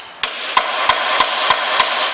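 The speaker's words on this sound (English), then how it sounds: "hitting that with the hammer" A hammer strikes a screwdriver held against a seized rear brake disc retaining screw on an Audi TT, six sharp, evenly spaced metallic blows ringing out close and loud over a steady background.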